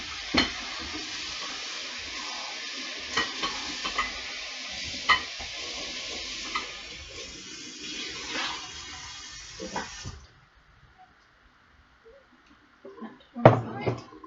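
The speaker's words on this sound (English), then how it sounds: "I'm going to rinse this bowl out quickly" Water runs from a kitchen tap into a mixing bowl as it is rinsed out, a steady splashing rush with scattered clinks and knocks for about ten seconds, then the flow stops, leaving a few faint bumps and a louder clatter near the end.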